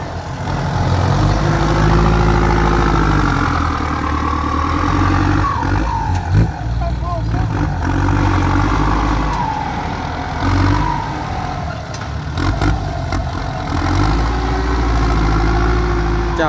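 An M6040 tractor engine idles steadily and close by, a low smooth rumble with slight rises and falls in pitch, with some faint clatter at moments.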